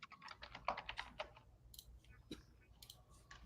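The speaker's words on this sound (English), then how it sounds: "I was banging on that keyboard." Fast, hard clatter of a computer keyboard being hammered, bursts of rapid key clicks followed by scattered sharper taps, fairly close.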